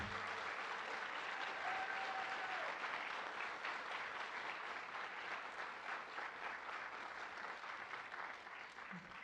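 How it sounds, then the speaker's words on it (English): A crowd at a county awards ceremony gives the coaches a big round of applause, a steady, dense wash of clapping heard from a distance that fades slightly toward the end. "Let's give them a big round of applause for what they do."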